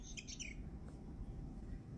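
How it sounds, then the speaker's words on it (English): A bird-shaped cat toy gives a short burst of realistic, high chirps when touched, loud and close, then falls back to a low background hum. "The realistic chirping noises are touch activated"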